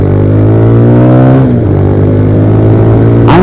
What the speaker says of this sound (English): Listen to the exhaust and listen to the engine.